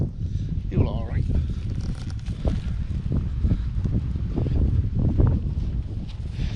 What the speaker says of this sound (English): it's getting quite blustery